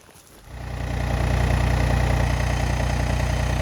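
A tractor engine starts up and settles into a steady, loud idle with a rhythmic low chugging, running alone without any voices.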